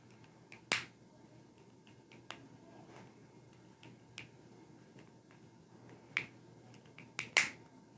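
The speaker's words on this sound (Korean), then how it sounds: "이 몰드를 반으로 접어서 딱 소리가 날 때까지 눌러서 고리가 고정이 되도록" A plastic bouncy-ball mold being folded and pressed gives several sharp, close snapping clicks at irregular intervals over quiet background, the loudest snaps bunched near the end.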